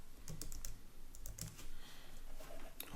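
Quiet, close typing on a computer keyboard while writing Vue code, irregular clusters of soft key clicks with brief pauses between bursts.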